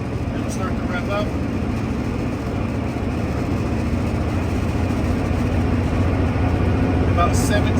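A truck engine drones steadily while heading downhill with the exhaust brake in use, a constant, loud, low rumble that holds for the whole stretch without obvious revving swings.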